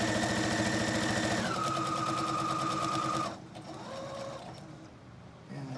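A sewing machine stitches in a fast, steady mechanical whir for about three seconds, then stops, leaving quieter clicks and a faint background hum.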